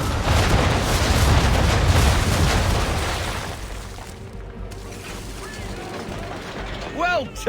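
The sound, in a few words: ship cannons firing a broadside of round shot, from the video game Assassin's Creed III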